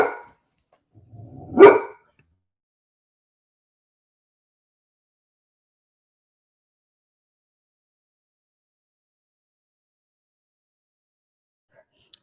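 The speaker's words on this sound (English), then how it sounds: "my dog started barking and I muted it" A single sharp dog bark, close and loud, preceded by a brief low sound, then long silence after the audio cuts out.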